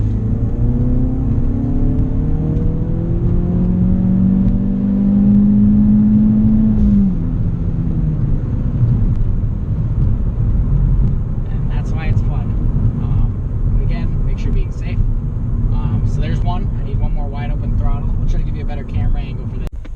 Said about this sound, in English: we're gonna get it right up to 6500 RPM in 3rd gear